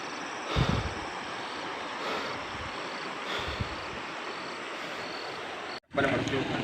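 Floodwater rushes through a flooded village and pours toward houses, a steady loud roaring hiss that fills the whole stretch, with a brief dropout near the end.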